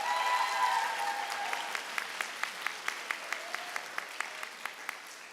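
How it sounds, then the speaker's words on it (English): An audience at a school's last-day awards assembly applauds the winners, starting as a dense wash of clapping that thins toward a few slow, distinct claps at a moderate distance. "Let's have a round of applause for the ladies."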